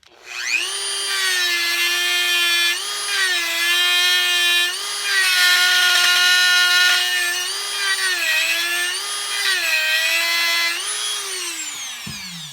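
A small power tool whines steadily while notching a wire channel into the edge of a wooden cigar box guitar, its pitch dipping slightly under load in several passes before it spins down at the end.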